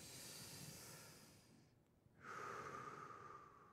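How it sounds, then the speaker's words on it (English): Loud, deliberate breathing during a breathing exercise: a long noisy exhale trails off into a brief pause, then a sharp, hissing inhale starts up close and holds strongly to the end. "Try breathing with me."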